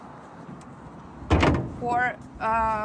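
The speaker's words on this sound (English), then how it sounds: "it's very easy to open and to close the engine" The engine cover of a Turchi 300F pile driver, a Yanmar-engined machine, is swung open and shut, giving a loud metallic clunk midway, with someone speaking afterward.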